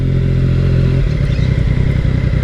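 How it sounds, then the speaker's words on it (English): Yamaha MT-09 motorcycle engine running loud and close, a steady low harmonic drone that shifts after about a second into a rougher, pulsing throb as the bike pulls away. "finally I get to ride my bike out"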